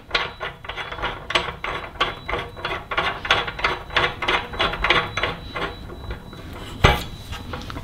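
A ratchet tool clicks steadily while screwing down a bearing press on a Cervelo aero bicycle frame, a close, crisp run of rapid pawl clicks with brief pauses and one sharper knock near the end.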